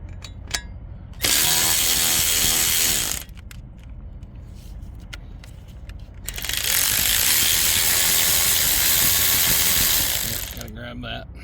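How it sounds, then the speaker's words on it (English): A ratchet zips off 13 mm bolts on the AC compressor of a 2018 Silverado 2500HD L5P Duramax, in two long loud bursts of rapid pawl clicking close to the microphone, with quieter shop noise and clicks in between. "And now I'll get these two 13 millimeters off."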